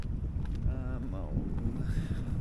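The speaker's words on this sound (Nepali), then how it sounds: "हावा र चिसो भइरहेछ" Cold wind buffets the microphone while riding along a smooth paved road in chilly weather, a constant low rumbling roar close up, with someone talking over it.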